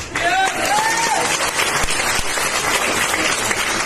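A crowd at a Hindi business seminar bursts into applause, continuous dense clapping filling the room while a voice and shouts rise over it at the start.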